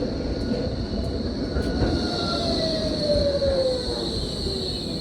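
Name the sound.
tram passing by in a German city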